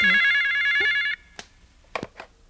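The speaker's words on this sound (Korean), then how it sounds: "전화 왔다" A telephone rings in a 1990 Korean animated TV series: a bright electronic trilling ring lasting about a second, then cut off, followed by a few soft clicks and rustles in a quiet room.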